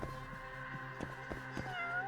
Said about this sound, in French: Oui, il y a un chat.